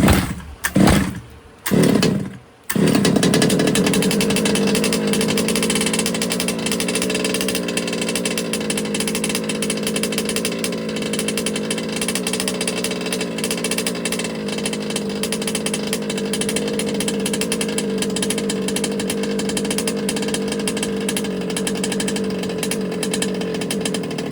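HPI Baja 5B RC car's small gas engine running rich, a loud continuous raspy buzz holding steady after a few brief sputtering catches at the start, with no talk over it.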